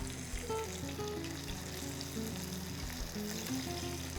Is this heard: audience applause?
no